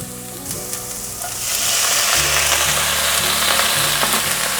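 Chinese kai-lan leaves hit a hot wok after their stems and are tossed quickly. Quiet clatter gives way to a loud, steady sizzle and crackle, with scraping stir strokes close by.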